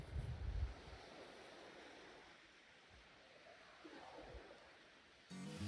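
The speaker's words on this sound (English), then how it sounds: "Look, we're right next to the water now, listen." Gentle waves wash onto a pebble stone beach beside a Patagonian hiking trail, a soft steady hiss of surf with faint wind, calm and moderately distant.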